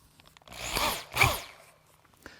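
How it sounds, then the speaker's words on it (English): A power drill fitted with a dowel bit bores straight down into wood for a child's rocker back leg, giving two loud rising-and-falling whirring bursts close by with brief quiet gaps, no talking. "place it in this drill, and I'm going to drill straight down"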